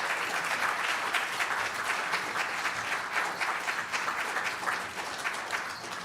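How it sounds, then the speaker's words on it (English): A community story slam audience applauds for past organization leaders, sustained dense clapping filling the room at steady loudness throughout. "Please applaud for all the other people who have led with GBIO over the years."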